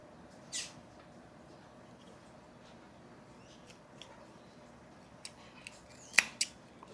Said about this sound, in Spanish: Cortamos la hebra.